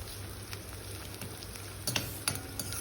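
Onions and ginger paste frying in a pan for a bottle gourd curry, giving a steady low sizzle throughout with a couple of sharper stirring clinks near the end; no talking.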